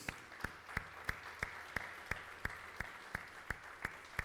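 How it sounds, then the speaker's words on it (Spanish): A church congregation applauds to welcome first-time visitors, heard as steady, evenly spaced claps at roughly three per second that stay moderate and even throughout. "Los recibimos con un aplauso."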